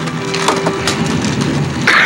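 Toy trains from a Thomas and Friends set crash off the track in a dense clatter of plastic and wooden knocks, tumbling and scraping for about two seconds close by, with a sharper rattle at the end.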